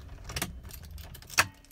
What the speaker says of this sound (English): show you that you have got, hopefully, 2 keys, you can see that